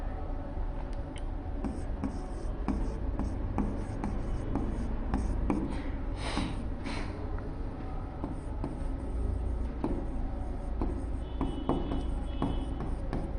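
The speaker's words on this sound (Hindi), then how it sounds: "यहां से लिखते हैं।" Writing on a board during a computer basics class, with rapid scratchy strokes and taps over steady room noise, close and moderately loud, with a brief voice partway through.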